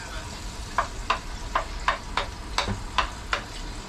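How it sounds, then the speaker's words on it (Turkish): An onion is dropped into hot oil in a pan and fries while it is stirred, a soft steady sizzle marked by regular light ticks and scrapes about every half second. The sound is close and fairly quiet, with no voices. "Şöyle yağımızı boşaltalım. Hemen içine bir tane soğanı atıyorum."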